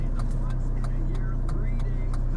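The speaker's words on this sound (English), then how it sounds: "No, you got a car coming." A car passes by on a road in Elizabethtown, Kentucky, heard from inside a waiting vehicle as a steady, fairly loud engine and road rumble with a person talking over it.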